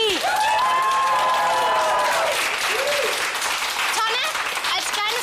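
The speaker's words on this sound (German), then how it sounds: "Und jetzt einen besonderen Applaus" Audience applause at a family celebration with a buffet and dancing, sustained loud clapping from a group mixed with cheering and an excited voice over the top.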